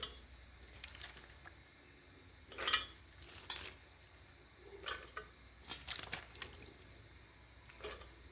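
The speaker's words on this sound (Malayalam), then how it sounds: "കുക്കറിലേക്ക് വാരിയിടുന്നത്." Cut jackfruit pieces are scooped into a pressure cooker, giving a handful of soft clinks, scrapes and wet thuds at irregular intervals, faint and close, with no talking.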